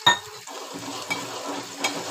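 Dry fish curry with kokum and a little water is stirred in a pan, a soft bubbling sizzle with a sharp utensil knock at the start and a couple of lighter scrapes.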